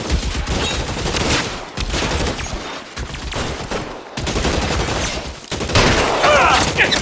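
Rapid bursts of gunfire in the video game L.A. Noire, a dense fusillade of overlapping shots with brief pauses, loud and close throughout.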